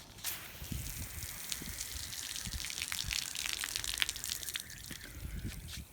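Water gushes steadily out of a hose fed by the piping of a two-story house, a continuous splashing flow at close range with no talk.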